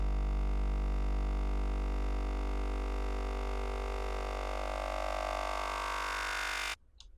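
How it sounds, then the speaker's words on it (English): A granular-synthesis synth riser swells steadily with a dense, textured tone for several seconds, then cuts off abruptly into near silence. "Kind of like a riser"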